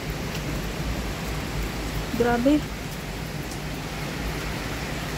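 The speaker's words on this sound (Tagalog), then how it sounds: "Ang lakas ng ulan sa Hong Kong." Heavy rain pours down in Hong Kong, a continuous broadband roar that holds steady throughout, with a person briefly speaking over it midway.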